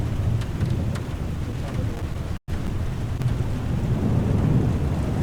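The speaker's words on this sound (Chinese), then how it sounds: "狂风暴雨飞到蓝屿，把天气调超差了" Thunderstorm weather with heavy rain in a flight simulator, as a small Cessna 152 heads into a storm landing: a dense, steady low rumble of rain and wind, with a brief dropout midway and no talking.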